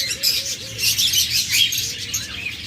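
Several small pet birds, lovebirds, cockatiels and budgerigars, chirp and tweet in quick bursts, a busy chorus of high calls over a low steady background hum.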